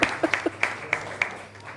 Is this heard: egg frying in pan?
no